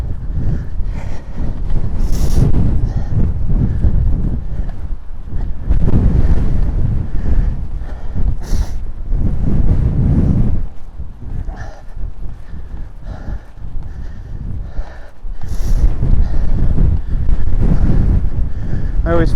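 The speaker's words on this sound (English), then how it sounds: "Yeah, this is going to be windy up here." Strong headwind buffets the microphone in heavy, roaring gusts that rise and ease in waves, with a brief lull before another blast, on a bike ride in St Ives, Cornwall.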